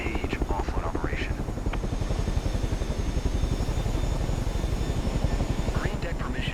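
A helicopter in the video game Microsoft Flight Simulator 2024 sends out a steady, fast rotor thump with an engine drone under it. The sound is continuous and close throughout, and brief bits of cockpit radio chatter break in.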